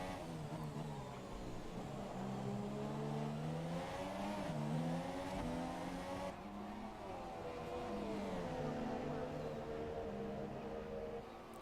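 Formula 1 race cars in the F1 2017 racing game, engines screaming at high revs close together, pitch rising and falling with gear shifts as they duel in a continuous loud drone.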